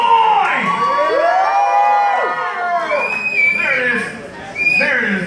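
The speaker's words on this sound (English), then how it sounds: "Make some noise!" Wrestling event crowd cheering, whooping and shouting loudly and continuously, with excited voices including children's rising over a steady roar for the full stretch.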